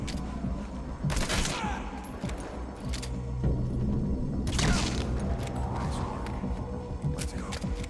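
Gunfire in Metal Gear Solid V: The Phantom Pain, with several loud bursts of shots and heavy impacts over a dense, steady game soundscape, plus quieter crackling shots between the bursts.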